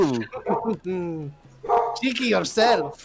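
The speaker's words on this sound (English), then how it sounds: "That's the dog, and I apologize." A dog barks and yips a few times in short bursts, close and fairly loud, mixed in with people talking over a tabletop role-playing game.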